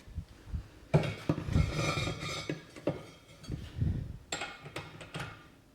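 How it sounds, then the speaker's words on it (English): A ratchet wrench clicks and clanks in short metallic bursts while a bass boat propeller is swapped, with irregular close taps and pauses between turns and no talking. "Now I'm going to flip my ratchet the opposite direction."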